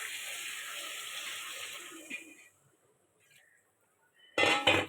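Water poured from a container into a pan of fish curry with potatoes, a steady gushing pour for about two seconds that tapers off, then near silence and a short louder splash near the end.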